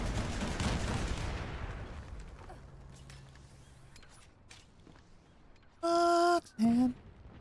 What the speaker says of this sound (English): Turret summoned.